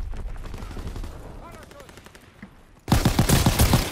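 A shotgun fires in Call of Duty WWII, first as soft muffled pops under quiet game noise, then a sudden loud burst of repeated blasts near the end.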